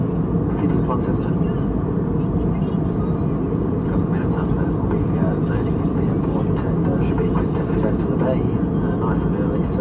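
Steady broadband roar of a Jetstar airliner cabin descending toward runway 14 at Launceston Airport, a constant loud engine and airflow drone with faint voices mixed underneath.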